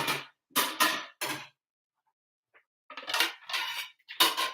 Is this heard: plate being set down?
yes